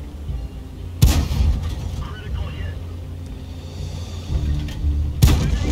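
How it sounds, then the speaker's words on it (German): Two heavy tank cannon shots boom in the World of Tanks video game, one about a second in and one near the end, over a rumbling engine bed while someone comments. "Und mit dem zweiten Schuss erledigt."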